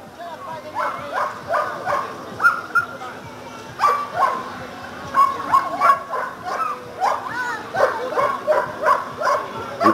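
Several dogs being walked on loose leashes at an obedience training session give repeated short barks and yips in bursts throughout, fairly close, with a steady low hum and light background noise.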